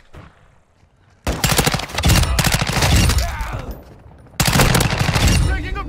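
Heavy gunfire in Call of Duty: Modern Warfare 2 erupts after a quiet moment in two loud stretches of rapid automatic bursts, with a short lull between them.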